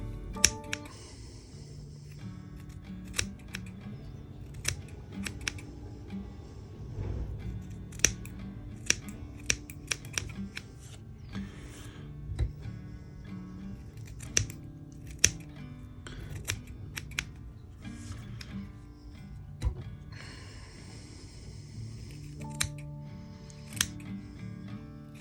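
Sharp scissors snip repeatedly while trimming a baitfish streamer fly at a fly-tying vise, a run of crisp close clicks under steady background music, with no talking.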